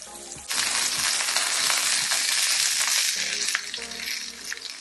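A steak sizzles loudly in a hot pan right after being flipped, a dense, close hiss that bursts in suddenly and holds steady before easing slightly at the end.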